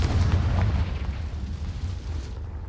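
Confringo fire spell explodes in Hogwarts Legacy as a deep, rumbling boom that fades over a few seconds.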